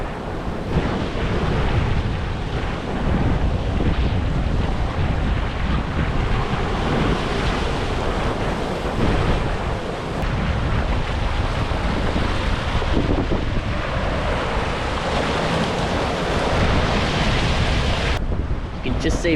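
Ocean waves surge continuously at Bridgewater Bay, a loud, steady wash of surf mixed with heavy wind rumbling across the microphone, with no voices.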